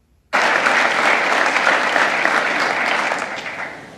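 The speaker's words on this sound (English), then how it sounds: "this is going to be a whole lot of like intermittent clapping, kind of like graduation day" Sustained applause from an audience at an International Women of Courage awards ceremony, starting abruptly and holding steady, dense and loud, then tapering slightly toward the end.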